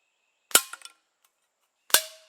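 A 1934 Diana Model 26 underlever air rifle fires two sharp, close pellet shots about one and a half seconds apart, the first followed by faint mechanical clicks, in an otherwise quiet room.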